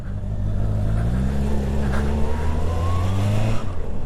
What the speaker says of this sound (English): Lights go green, revs are up, and you're away.